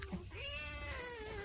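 A hungry pet cat named Kalu meows in a long, drawn-out, rising-then-sustained cry, close and fairly clear over a soft background hum, with no talking.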